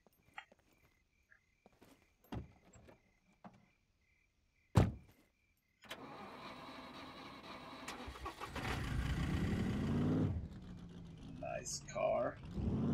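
A car in the video game SCUM: after a few door clunks and clicks, the engine starts and settles into a steady running rumble, fairly close, that revs and changes pitch before falling back to idle.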